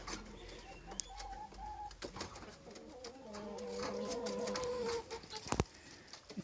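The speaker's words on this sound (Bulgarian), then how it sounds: "И ето го отново петела със своите кокошки." Rooster and hens in a rural poultry yard, several soft clucks and short calls scattered through the clip with a brief louder call near the end, fairly close over faint outdoor background.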